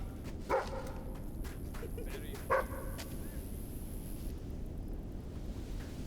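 Dog in the video game Fable III giving two short barks a couple of seconds apart, faint against a soft, windy game background with no one talking.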